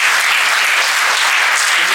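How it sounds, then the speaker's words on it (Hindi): A large audience at an Ashwagandha campaign gathering claps loudly and continuously, dense even applause close and filling the whole moment without pauses. "जरा तालियां तो बजाएं।"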